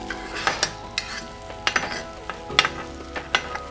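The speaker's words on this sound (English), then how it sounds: "We'll give this a few flips on the potatoes." Potatoes being flipped with a metal spatula on a Steelmade flat top griddle beside cooking salmon and asparagus, giving a steady sizzle broken by several sharp scraping clacks of utensil against steel.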